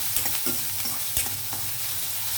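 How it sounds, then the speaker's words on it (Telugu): Onions fry loudly in a pan, a dense, close crackling hiss broken by a few quick stirring scrapes, with no talking. "ఉల్లిపాయలు కొద్దిగా వేగనిద్దామండి"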